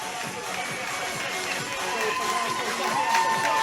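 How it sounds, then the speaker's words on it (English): Home crowd roaring after a Glasgow City women's football goal, a broad wash of cheering that swells steadily over a few seconds, heard from a distance with commentary faintly mixed in. "big roars from the home crowd as it brings things back all level"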